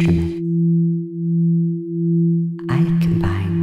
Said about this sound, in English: I combine binaural beats with isochronic tones to hijack your brainwaves.